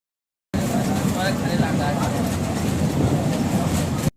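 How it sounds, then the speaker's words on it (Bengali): A passenger train heading back to Katwa rumbles along in a steady, low, close-up drone that holds evenly for a few seconds. "এই যে কাটোয়া ফেরার ট্রেন আমরা পেয়ে গেছিলাম"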